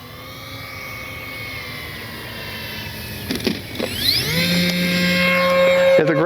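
An Avios Albatros V2 radio-controlled plane comes in to land without flaps over a grassy Florida field, its electric motor whining steadily, then dipping and rising in pitch as the throttle changes. The whine grows louder toward the end.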